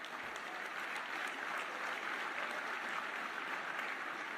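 Steady, dense applause from a large audience at a college football awards dinner, many hands clapping in a continuous wash with no pauses, heard at moderate distance throughout.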